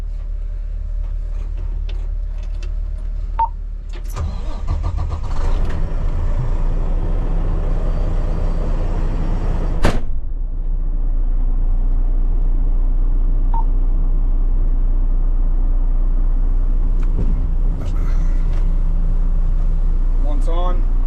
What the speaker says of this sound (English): Turn the truck on, wait for the glow plugs to warm.